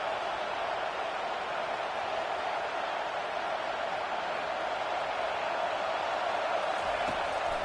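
Stadium crowd at a Penn State vs USC college football game, a steady, loud, washing roar of many voices that holds constant throughout without distinct peaks.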